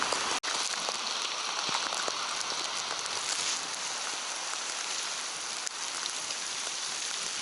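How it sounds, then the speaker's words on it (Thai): Steady rain pours down while riding a bicycle along a road, a dense continuous hiss with a couple of brief sharp clicks, no voices. "ปั่นจักรยานฝ่าฝน"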